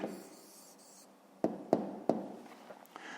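A hand writes an answer for a fifth-grade math exercise, a few sharp taps and short scratchy strokes of a pen on paper, close and quiet with brief pauses between.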